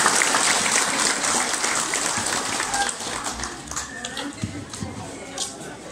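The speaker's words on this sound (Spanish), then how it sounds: "Pequeños aplausos para estos pequeños" An audience applauds children who have just played huapangos, a dense burst of clapping that starts loud and thins out over several seconds, with voices and some shuffling underneath.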